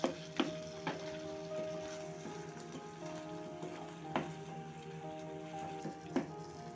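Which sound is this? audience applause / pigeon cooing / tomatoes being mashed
tomatoes being mashed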